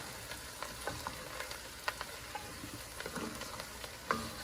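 About 1.5 pounds of mushrooms are stirred in a soup pot, giving a soft, steady sizzle broken by scattered scraping clicks from the spoon. The sound is fairly quiet and close, with no talking.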